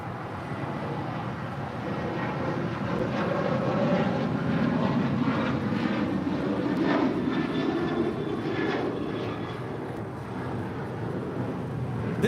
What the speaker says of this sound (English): This is American Airlines Flight 669 departing to Chicago O'Hare on the 737-800